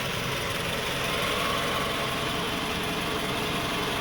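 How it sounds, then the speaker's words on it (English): A 2002–2006 Toyota Camry engine idles roughly with the air conditioning on, a steady close mechanical drone with a low vibrating shake throughout and no talking. "You can see the engine starting to shake."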